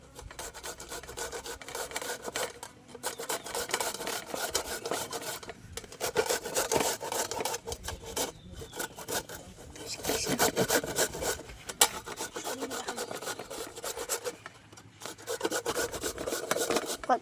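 Ripe mangoes are rubbed to strip the skin, giving a continuous rough, rasping scrape in repeated strokes with brief pauses, close and fairly loud, with no talk over it.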